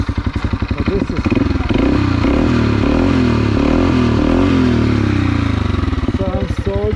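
Segway Snarler AT5L ATV with a simply modified exhaust idling and revving nearby, a loud, throaty, pulsing engine note that rises and falls briefly across the clip.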